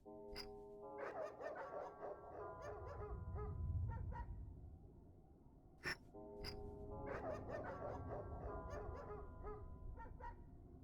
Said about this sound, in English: The dogs won't ignore it.